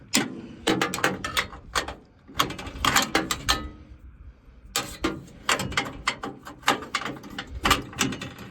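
A ratchet wrench clicks in quick rapid bursts while backing out the last bolt holding a car bumper, with brief pauses between runs of close, sharp ratcheting.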